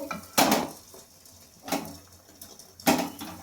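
Butter-egg batter being turned over in a kadai, with three sharp metallic scrapes and clanks of a utensil against the pan spaced about a second apart, close and fairly loud.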